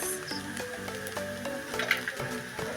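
Sizzling and stirring of veg chow mein frying in a pan as soy sauce goes in, a steady close hiss with scraping and clinking strokes of the spatula throughout.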